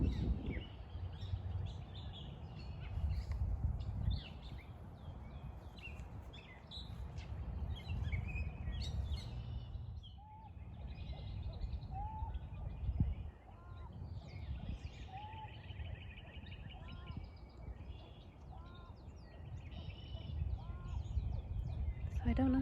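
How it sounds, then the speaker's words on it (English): Pied-billed grebes call from a pond in a park, a series of faint, distant hollow notes repeating in the second half under wind and outdoor rumble. "those are our pied-billed grebes that are calling"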